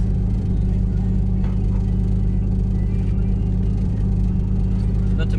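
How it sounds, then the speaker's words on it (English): A 500 HP Nissan R33 Skyline sedan engine, miked in the engine bay, runs with a loud, steady low rumble and slight revving throughout, with no clear sharp throttle blips. "this car makes some amazing noises"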